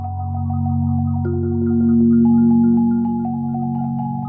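A loud, sustained low synth drone from a generative Ableton patch hums beneath a layer of delayed, compressed marimba notes that shift pitch in steps; the drone swells gently in the middle while the notes repeat above it.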